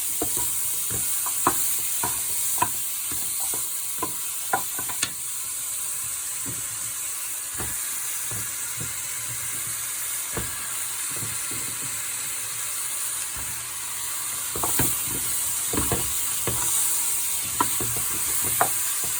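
Cabbage, green peas and other vegetables tipped into a pot of salmon bouillon and stirred, a steady hiss and bubble of broth under scattered clinks and scrapes of a spoon against the pot, heard close with no talk.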